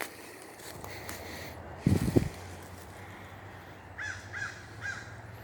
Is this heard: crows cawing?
yes